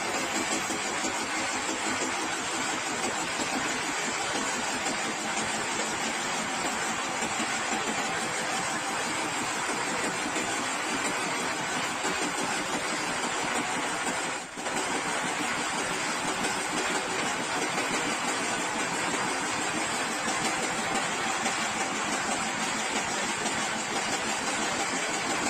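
Reconditioned marine engine on a wooden ship, the KLM Al Mukarromah 2, running steadily with a dense, continuous mechanical drone and broadband hum that holds unchanged throughout, loud and close with no voices.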